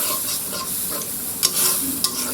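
Small prawn pieces are stirred and sautéed in gravy in a pan over a low gas flame, giving a steady close sizzle broken by a couple of quick spoon scrapes.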